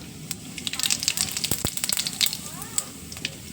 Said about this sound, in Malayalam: ഞാൻ അതിലേക്ക് കുറച്ച് നല്ല ജീരകം ചേർത്ത് കൊടുക്കാം